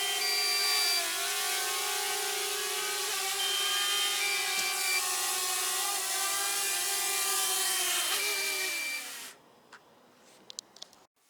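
A DJI Mavic Air drone flies back in to land, its high, steady motor whine holding loud and close before it drops in pitch, cuts out and leaves a few faint clicks.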